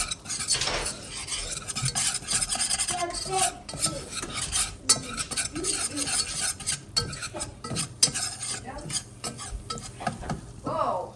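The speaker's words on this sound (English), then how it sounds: "And we mix. And we mixy until you have a nice paste." A spoon stirs flour into a thick paste in a pot for a pot roast gravy, with steady close scraping and soft clicking against the pan and a faint sizzle beneath, continuous and busy, no talking.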